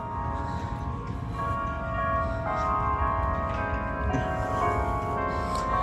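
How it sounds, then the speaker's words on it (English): Church bells ring outdoors near a state office building, their sustained ringing tones hanging over a dense wash of steady background noise, moderately distant and without talk. "Some church bells going off today."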